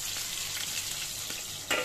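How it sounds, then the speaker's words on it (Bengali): Fish frying in a pan hisses steadily and close up, a continuous bright sizzle with faint crackles that swell into a louder burst near the end, with no voices. "এই যে ওদিকে মাছ ভাজা হচ্ছে।"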